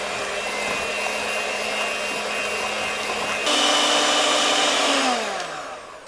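An electric mixer whirs steadily through cheesecake cream while eggs are beaten in, a constant motor drone that turns louder and brighter partway through and then winds down at the end.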